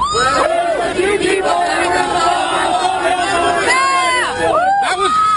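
A large outdoor crowd at an Occupy Wall Street rally in New York cheers and whoops loudly and continuously, a dense roar of many voices with shouts rising above it throughout.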